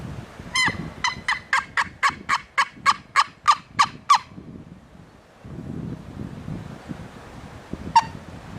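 A wild turkey gobbles during a spring hunt in Indiana, a rapid run of about a dozen loud, close calls followed by quieter rustling and one more call near the end.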